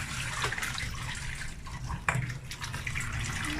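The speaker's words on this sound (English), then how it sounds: "I'm going to drain the water from the spinach" Hot water from boiled spinach drains steadily, pouring and trickling in a continuous close wash with a few small splashes.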